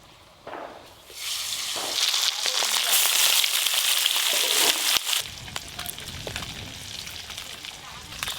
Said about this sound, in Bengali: মশলা দিয়ে মাছ ভাজা হচ্ছে তো